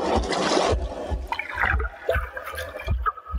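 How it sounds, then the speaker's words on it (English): Water gurgles and trickles in The Last Campfire, a steady broadband wash at the start that breaks into uneven bubbling bursts, with low rumbling thumps underneath throughout. "The gurgling of water,"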